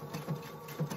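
A sewing machine runs steadily through a short stretch, its motor hum carrying a rhythmic thumping stitch pulse about every half second, close and moderately loud with no talking.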